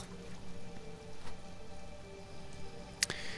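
Steady soft rain patters through a quiet underground shelter scene in the video game Sheltered, a faint continuous wash with a brief sharp click near the end.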